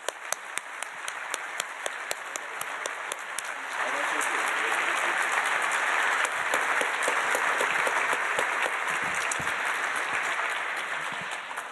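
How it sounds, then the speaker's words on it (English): Audience applause for two panelists after a discussion program, dense steady clapping that swells and grows fuller partway through and holds at a constant level throughout. "Let's give our panelists a round of applause."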